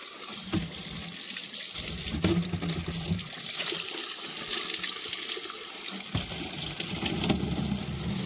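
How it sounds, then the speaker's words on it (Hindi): Water runs and trickles into a container at an outdoor tap in the Himalayan hills, a continuous splashing flow with gurgling shifts, moderately close, with faint background noise. "मैं इनके लिए पानी का डब्बा भर के लाती हूँ"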